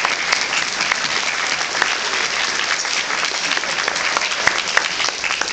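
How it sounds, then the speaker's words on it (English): Steady, dense applause from a large audience at a Brandeis University Hall of Fame ceremony, holding an even level throughout with a few sharper claps standing out. "Everybody give Dan Portion a round of applause"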